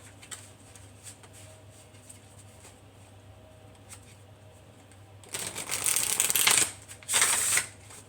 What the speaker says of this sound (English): It's a really big deck, so I'm shuffling it off camera